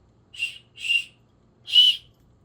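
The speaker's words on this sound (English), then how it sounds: "little keychains with a little whistle" A small metal keychain whistle is blown three times: two short shrill toots close together, then a slightly longer one after a brief gap, all close and clear against near silence.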